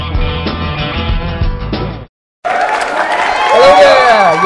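A live studio audience applauds and cheers as the host of a music talk show comes on. The crowd noise is loud and steady after a brief gap, with voices calling out over it.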